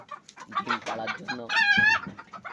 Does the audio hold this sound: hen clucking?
yes